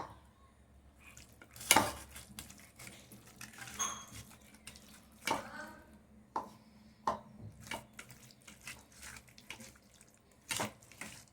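Raw chicken being hand-mixed with a ground spice marinade in a metal bowl, giving intermittent wet squelches and clinks of dishware with a few sharp knocks, fairly close, with no speech.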